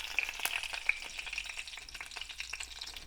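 Curry leaves crackle and sizzle in hot oil with popping mustard seeds for Kerala-style inji (ginger) curry, a steady close hiss with sharp spitting pops and light stirring scrapes.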